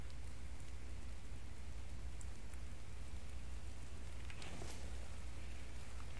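Morning rain falling in the survival video game The Infected, a steady dense patter of drops hissing evenly throughout, alone without talk.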